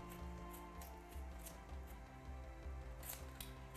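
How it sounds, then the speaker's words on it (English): A knife cuts through peeled yam in a kitchen, giving soft, repeated slicing strokes in a steady rhythm over a low background hum. "Peel and slice your yam, ready to boil."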